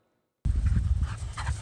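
A decorated working dog pants rapidly and audibly in quick rhythmic breaths, close to the microphone, starting abruptly after a moment of silence.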